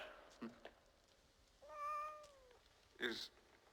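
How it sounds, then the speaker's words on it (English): Cats meow in a quiet room, one clear drawn-out meow in the middle and a shorter, sharper cry near the end, close but soft, with no talking. "Got all these cats."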